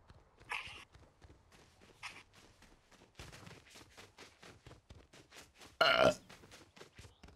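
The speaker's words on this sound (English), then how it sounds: "Did y'all hear that burp?" A single loud, abrupt burp bursts out near the end, standing well above a quiet background of faint shuffling and low murmuring voices.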